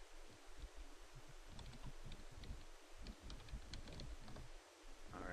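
Steady clicking of keys being typed on a computer keyboard, close and fairly quiet, continuing in quick irregular bursts with short pauses and no talking.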